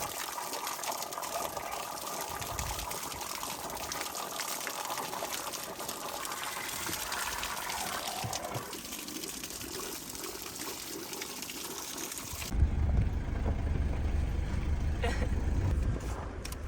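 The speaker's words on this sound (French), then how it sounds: "il sort de sa maison un gros tuyau noir et il commence à nous remplir les réservoirs" Water gushes from a large black hose filling storage tanks at a family home in Iran, a steady broadband rush that grows louder and heavier near the end, with no talking.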